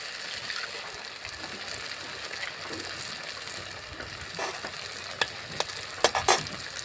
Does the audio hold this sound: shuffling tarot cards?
no